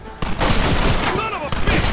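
Dense, loud gunfire rattles nonstop in a Red Dead Redemption battle with United States Army soldiers, with overlapping shots and bursts under shouted voices.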